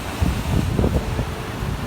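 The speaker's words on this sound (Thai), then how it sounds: "ลมแรง" Strong wind at the Hua Hin fishing pier, Thailand, buffets the microphone in a low, rumbling roar that swells and eases over a couple of seconds.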